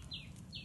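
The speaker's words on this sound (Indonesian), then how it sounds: "Suara burung nih." Two faint, quick descending bird whistles, evenly spaced, heard at a distance over a low rumble.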